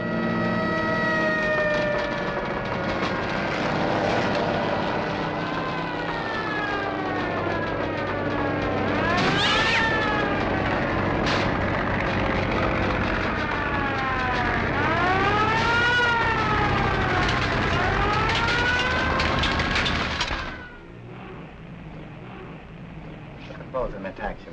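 A fire siren wails from a firehouse just down the street in a 1951 film scene, rising and falling in sweeping tones over steady background noise for about twenty seconds before cutting off.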